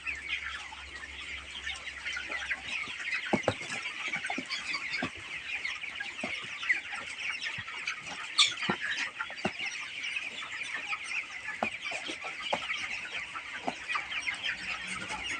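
Many chickens clucking and murmuring together in a crowded poultry coop, a continuous busy chorus at moderate distance with scattered sharper clucks and occasional wing flaps.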